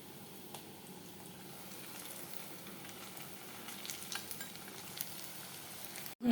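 Pakoras fry in hot oil with a soft, steady sizzle and faint crackling bubbles, close and quiet, ending with a sharp clatter at the very end.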